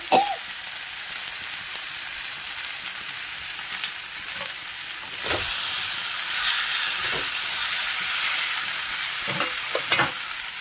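Potatoes sizzle and fry in a pan for a sweet potato stew, a steady hiss broken by several sharp scraping stirs, the frying swelling louder midway.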